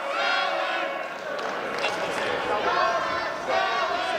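A wrestling crowd at a heavyweight championship match roars in a dense, continuous wash of cheering and shouting that fills the whole stretch.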